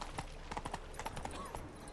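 Roach, Geralt's horse in The Witcher 3, trotting with quick, close clip-clopping hoofbeats in a steady rhythm over a busy background, heard for a short moment.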